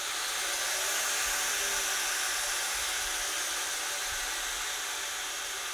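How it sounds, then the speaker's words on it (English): A variable-speed knife-making belt grinder fitted with a platen runs continuously, giving a steady bright broadband hiss and whir at even loudness throughout, with no voices. "So this machine obviously gets fitted with a platen, then I also have a 300mm wheel that attaches to it as well. So that's my main preliminary grinder."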